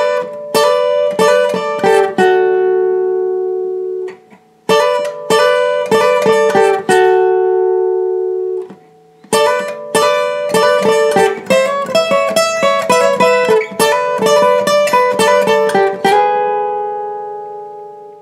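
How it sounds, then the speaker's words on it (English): Lead guitar line from the chorus of a song, played alone as bright plucked notes and short phrases with ringing sustain, broken by two brief pauses, clear and close. "The next lead guitar part is during the chorus, and it sounds like this."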